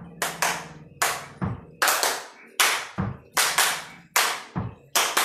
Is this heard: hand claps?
yes